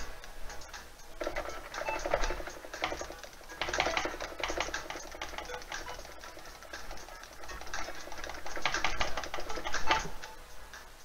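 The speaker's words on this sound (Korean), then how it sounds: "음악 소리와 함께 키보드와 마우스 소리는 어느 정도로 들어가는지 알아보도록 하죠" Computer keyboard typing and mouse clicks in quick irregular bursts, close and crisp, over faint music playing from a tablet in the background.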